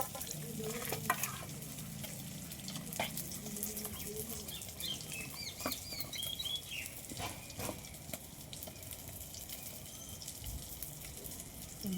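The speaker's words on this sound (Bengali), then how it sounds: "এবার আমি এটাকে গুলে নেব।" Mustard paste mixed with turmeric, sugar, salt and green chilli paste is stirred by hand in a rural kitchen, giving a steady soft scraping and swishing under low background hiss, with faint birdsong and occasional knocks.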